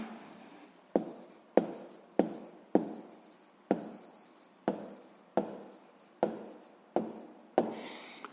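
A pen writes on paper by hand while a sixth-grade maths exercise is worked out, producing about a dozen crisp, evenly spaced scratching strokes, each sharp at the start and fading, close and alone.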